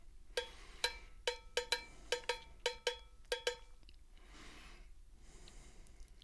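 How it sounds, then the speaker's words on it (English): A dry metallic cowbell clanks about nine times in a quick, slightly uneven rhythm, then stops, leaving faint room noise. "If your music needs more cowbell, then we have that."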